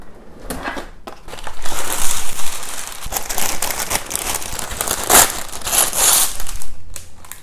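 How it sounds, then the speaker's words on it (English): A sheet of parchment paper handled while baking banana bread in a loaf pan at night, close crinkling, crumpling and rustling in irregular bursts, loud and near, no talking. "I am going to get a piece of parchment paper"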